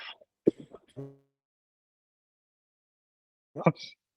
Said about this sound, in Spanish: Disculpen si comienzo con un poco de tos.